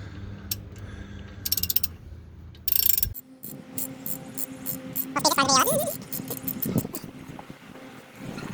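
Half-inch ratchet working on the brakes of a Chevy Malibu Maxx, bursts of rapid metallic clicking in quick runs mixed with clanks and handling noise, close and fairly loud.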